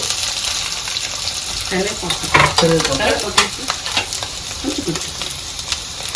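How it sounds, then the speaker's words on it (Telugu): Chana dal, urad dal, garlic and dried red chillies frying in a pan for Andhra-style gongura pappu, a close steady sizzle broken by stirring clatter, with a brief trickle of water. "శనగపప్పు, మినప్పప్పు కొంచెం. ఇవి అలాగా లైట్గా ఫ్రై అయినంత వరకు ఉంచుకొని వెల్లుల్లి, ఎండుమిరపకాయలు,"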